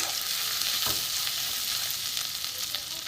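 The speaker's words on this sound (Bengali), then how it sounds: "আদা আর জিরে ধনে তেলের মধ্যে ভাজলে সুন্দর একটা সেন্ট বেরোয়" Ginger, cumin and coriander fry in oil for a Bengali dal dish, giving a steady, dense sizzle that holds evenly throughout, with a faint stir of a spoon partway through and no talking.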